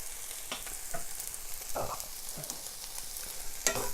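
Carrots frying in a pan are stirred several times, each stir a short scraping swish over a soft, steady sizzle with no voices.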